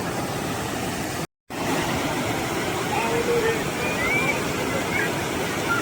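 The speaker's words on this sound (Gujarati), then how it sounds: "અહીંયા જો પાણી કેટલું જોરદાર પાણીનો પ્રવાહ છે, વહે છે" Loud, steady rush of river water released through opened dam gates fills the whole clip, a broad continuous roar with a brief dropout near the start.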